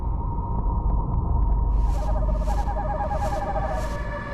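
An owl hoots in the Hindi mythological TV serial Vighnaharta Ganesh: four drawn-out calls in a steady rhythm from the second half onward, over a constant low rumble and a background music bed.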